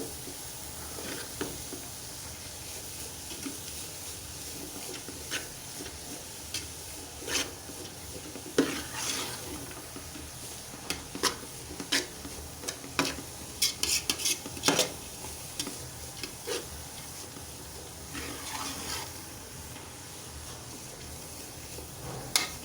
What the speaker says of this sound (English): So I'm going to stir everything together.